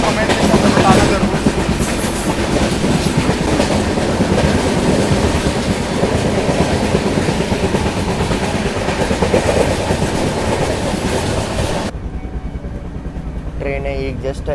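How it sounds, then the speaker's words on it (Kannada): A train runs non-stop through Katwa Junction near Kolkata, its loud continuous rumble and rattling wheels heard close by before dropping away sharply near the end. "ಟ್ರೈನ್ ಈಗ ಜಸ್ಟ್ ಇಂಟೀರಿಯರ್ ಕೋಲ್ಕತ್ತಾದ ಕಟ್ವಾ ಜಂಕ್ಷನ್ ಅನ್ನೋ ಪ್ಲೇಸ್ ಕ್ರಾಸ್ ಮಾಡೈತ್ರಿ"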